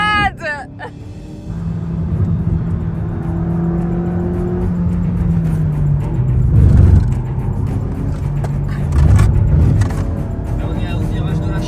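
A race car driving fast on a circuit at the GP Explorer event, its engine droning steadily and rising in pitch as it accelerates, with a loud surge of roar midway, while excited people talk and shout over it.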